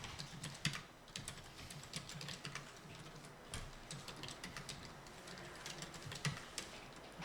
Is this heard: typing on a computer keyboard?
yes